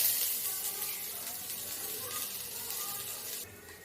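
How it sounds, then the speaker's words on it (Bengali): Chopped ginger and garlic fry in a little oil in a wok, giving a steady close sizzle that tapers slightly near the end, with no voices. "আদা রসুনটা আমি সামান্য একটু লাল লাল করে ভেজে নিয়েছি"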